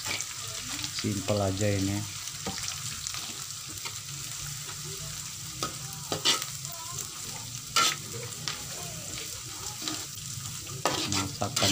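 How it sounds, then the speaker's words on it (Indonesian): Fried anchovies stirred into a pan of green chili sambal, with scraping utensil clinks and a steady sizzle running throughout, while a person speaks briefly over the cooking. "Kita masukkan ikan terinya yang sudah digoreng."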